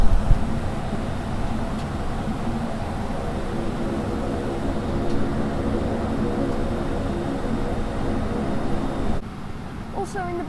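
A refurbished Saab 340 turboprop cabin in flight with REX Regional Express, Sydney to Griffith, fills the space with a steady loud drone and layered propeller hum, continuous and close, dipping slightly at the end.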